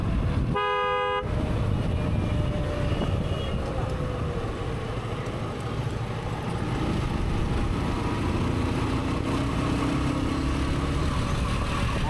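A vehicle horn honks once in a short burst near the start, loud and close, over steady traffic rumble and wind noise that continue alone afterward.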